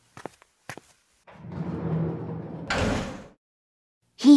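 Compartment door on a train: a few quick latch clicks, then a rolling slide lasting about two seconds and a brief rattling bump, followed by a short low thud.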